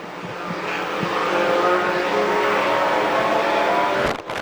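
A pack of dirt track race cars thunders through turns 3 and 4 at Bedford Speedway, engines building to a loud sustained roar as the cars sweep past, then cutting off sharply near the end.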